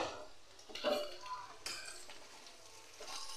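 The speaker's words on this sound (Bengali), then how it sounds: "ঢাকনাটা তুলে নিচ্ছি" A lid comes off a cooking pot of gourd greens with shrimp and potatoes, giving faint metallic clinks and a scrape over a soft, steady simmer.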